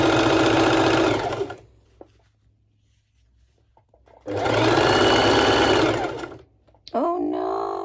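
A sewing machine stitches a dress in two loud, steady bursts of rapid whirring, each about two seconds long, separated by near silence with a few small clicks, with a brief voice at the end.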